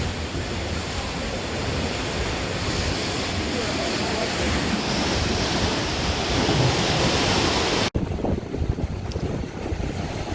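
Sea waves surging at a coastal cave on the north coast of Bornholm island, a steady loud roar of surf mixed with heavy wind buffeting the microphone, cutting briefly near the end.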